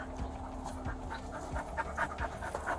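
A dog pants steadily and close by, quick rhythmic breaths over a low background hum, with no talk.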